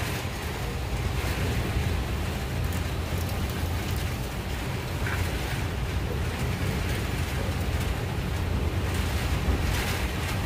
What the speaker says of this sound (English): It's coming down. Pouring cats and dogs outside right now.